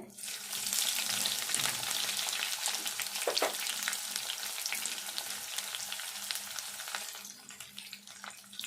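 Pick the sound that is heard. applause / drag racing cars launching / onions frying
onions frying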